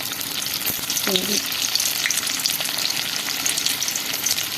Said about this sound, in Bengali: এখন কড়াই গরম হয়ে গেছে দিয়ে দিচ্ছি পকোড়া